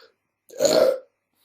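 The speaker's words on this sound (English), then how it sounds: "But like I just burped there." A single loud, close burp lasting about half a second, with a brief faint sound just before and silence after.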